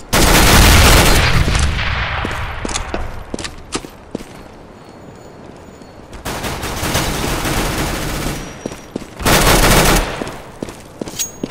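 Heavy gunfire and explosive bursts from a shooter video game, with a grenade thrown amid loud sustained volleys and scattered single shots; two dense blasts of fire stand out later, with no talk.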